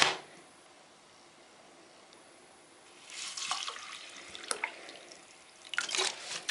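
Ice-cold water pours into a cup during a Polish 24-hour ration meal, a bright splashing trickle that comes in two bursts after a quiet pause, close and with no speech.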